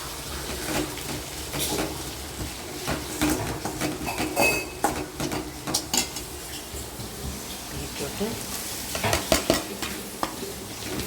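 Onion frying with okra in a pan gives a close, continuous sizzle, broken by repeated stirring scrapes and metallic clinks of a utensil against the pan.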